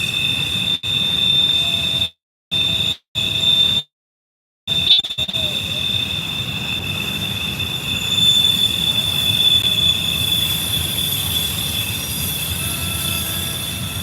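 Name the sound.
freight train wheel squealing on Horseshoe Curve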